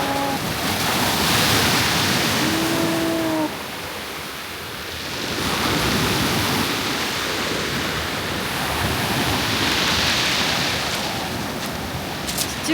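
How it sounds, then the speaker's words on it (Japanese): Mediterranean Sea waves wash onto the shore at Nice on the Côte d'Azur. The broad surf roars continuously, dips briefly, then swells again in slow surges, close and fairly loud with no speech. "ニースの 海ですよ、これ"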